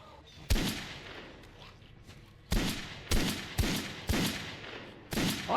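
Gunfire in a Silent Hill video game: five or six loud, sharp shots spaced about a second apart, each with a short decaying tail over a quiet, eerie background.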